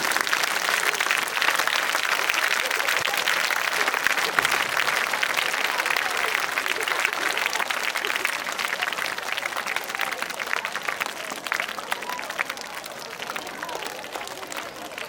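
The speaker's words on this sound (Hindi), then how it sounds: "अपने हाथ दोनों ऊपर करके तालियां बजा के दिखाए सभी" An audience at a school annual prize distribution and cultural ceremony claps with both hands raised, dense sustained applause filling the whole stretch at steady loudness, with crowd noise mixed in.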